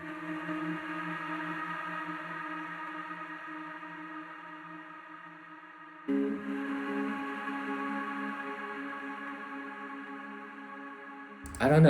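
A breathy, vocal-like synth from the Exhale plugin holds a sustained chord, shifts to a new voicing partway through and keeps droning with an airy, choir-like texture.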